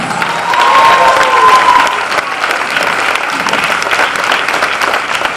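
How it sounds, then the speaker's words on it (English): Audience applause for a master of ceremonies at an MLK Jr. celebration, a steady, dense wash of clapping from a large crowd that swells early and then holds at a constant level with a few faint cheers. "Let us give him a round of applause."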